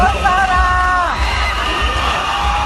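A Miss World Philippines 2017 audience cheers loudly during the question-and-answer portion. Whoops and yells ride over a sustained roar from the crowd.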